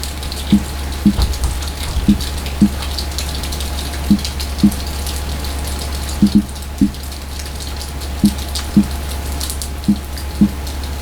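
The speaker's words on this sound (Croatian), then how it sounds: "A čim bude stala kiša," Rain falling during a thunderstorm in Zlatibor, a steady hiss of rainfall over a low constant hum, with regular dull drips or taps landing close by at a roughly even pace.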